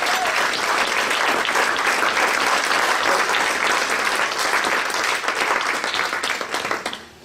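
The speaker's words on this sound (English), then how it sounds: "how about if we give a round of applause to those who have facilitated this dinner by working hard in the kitchen today" A room of church luncheon guests claps steadily for the kitchen helpers at a 125th anniversary celebration, a dense, sustained round of applause that tapers off toward the end.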